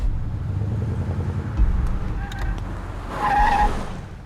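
Car tires skid and squeal loudly in a video game over a steady engine roar, with the screech swelling near the end.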